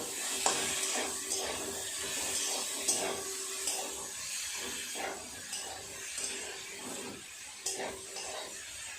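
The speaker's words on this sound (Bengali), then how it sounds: "ভালো করে মশলার সাথে সবজিটা কষিয়ে নেব।" Mixed vegetables sautéing with chopped tomato and a ground ginger, cumin and coriander paste, a steady close sizzle broken by regular clinks and scrapes of a spoon against the pan.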